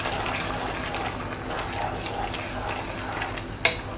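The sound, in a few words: bamboo rice kheer being sautéed and stirred with ghee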